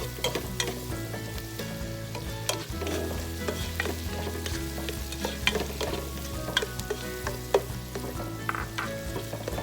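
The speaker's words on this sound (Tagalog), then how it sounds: "Ilalagay ko na po itong ating chicken liver." Chicken liver frying with garlic and onion gives a strong, continuous sizzle close by, with repeated spoon scrapes and stirring clatter throughout and no talking.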